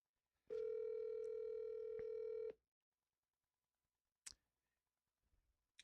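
A telephone line tone plays while a call is placed back: one steady electronic tone lasting about two seconds, then a few faint clicks and quiet.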